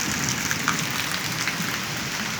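Heavy rain pours down in a dense, constant hiss of drops hitting surfaces, loud and close, with no break for the whole stretch.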